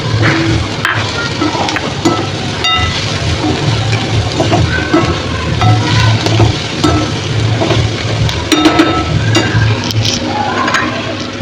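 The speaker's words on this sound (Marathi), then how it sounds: "आता त्याच्यामध्ये टाकते मी आपले तळलेले बोंबील" Fried bombil fish tossed into onions and stirred in a pan for a crispy bombil chutney, steady sizzling with scraping and clinking of a spatula against the metal pan throughout, no talking.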